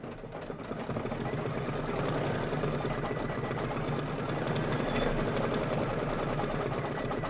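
An embroidery sewing machine stitches small white dots on a Kimberbell Cup of Cheer project, giving a steady, fast mechanical whirr and rattle that runs unbroken and fairly loud, with no talking.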